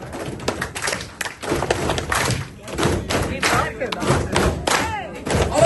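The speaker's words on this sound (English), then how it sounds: "2 taps on the desk and then a clap." A classroom group, part of a malaria prevention awareness skit, keeps up a loud, busy pattern of thumping desk taps and hand claps with scattered voices mixed in.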